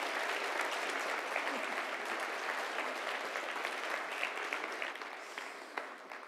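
An audience at an evening talk event gives a loud, sustained round of applause. The dense clapping holds steady and fades slightly toward the end.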